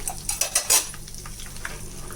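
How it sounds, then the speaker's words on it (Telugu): Cumin and mustard seeds hit hot oil for tempering a drumstick pickle, giving a burst of bright crackles and pops near the start that settles into a softer, steady sizzle. "అదే ఆయిల్లోని పోపు వేసేసుకుందాము జీలకర్ర ఆవాలు"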